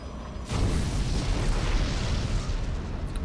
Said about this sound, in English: Nukes are going to be on the way here towards the forward base